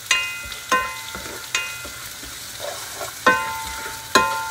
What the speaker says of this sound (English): Stir until the smell come out.